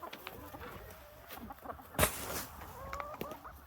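Chickens cluck softly near a snowy winter coop on an Indiana homestead, with scattered quiet calls and one sharper squawk against light background noise.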